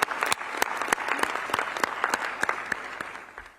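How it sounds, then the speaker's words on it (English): An audience at a 2025 senior high school renewable energy championship ceremony in Ghana applauds steadily, with dense clapping and sharp individual claps throughout, moderately loud and continuous, without voices on top. "they deserve a round of applause."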